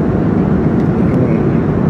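A loud, steady, unbroken roar of an airplane fills the whole stretch, heard close and continuous, like cabin noise during a flight.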